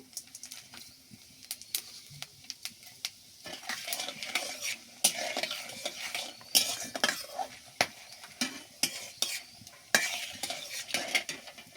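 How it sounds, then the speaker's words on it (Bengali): Whole dry chillies, whole garam masala and cumin seeds dropped into hot oil for a country chicken and potato curry, giving a close, crackling sizzle broken by irregular clinks and scrapes of a spoon against the pot. "গোটা শুকনো মরিচ দিলাম গরম মশলা দিলাম গোটা এখানে আমি কিছু জিরেও দিব"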